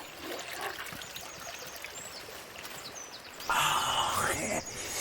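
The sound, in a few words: pouring water to drink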